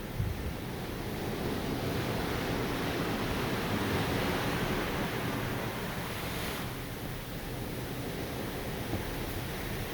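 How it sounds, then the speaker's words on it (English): Ocean waves heard from a balcony high above clean, dark blue open water: a constant, even wash of surf with windy hiss, fairly quiet and with no voices. "looking at the mid-ocean here."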